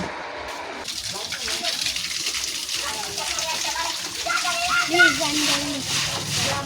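Water from a motor pump splashes and gushes steadily across the floor of a shed being washed down, a continuous near wash of sloshing water, with people talking over it.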